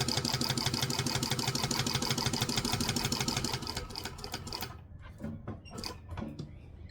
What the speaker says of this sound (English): We're going to stitch forward 2 and backwards 2, because we always back stitch